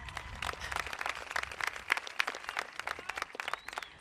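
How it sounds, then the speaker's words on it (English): Scattered clapping from an audience at a 2022 high school commencement at Pacific High School, fairly faint and distant, with individual claps popping out of a thin, uneven patter. "It's okay to clap."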